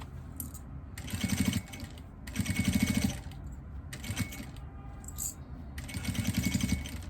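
A sewing machine stitches fabric for a small heart-shaped jewelry box, running in several short, rhythmic bursts separated by brief pauses, close and fairly quiet.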